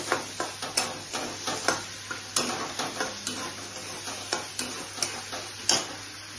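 Soy sauce splashed into a hot pan of sizzling paneer curry with sesame seeds, a loud steady sizzle broken by regular rhythmic stirring scrapes and taps of a utensil against the pan, no voices.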